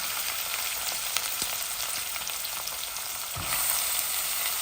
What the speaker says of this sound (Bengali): রসুনটা লাল হচ্ছে।